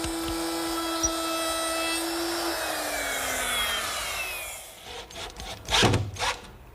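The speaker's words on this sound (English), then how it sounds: "Now I'm going to replace that 1/2 inch bit with a 1/4 inch radius quarter round" A woodworking router with a 1/4 inch quarter round bit shapes the bottom edge of a wooden top. A steady motor whine sinks in pitch as it spins down, followed by a few scraping bursts near the end.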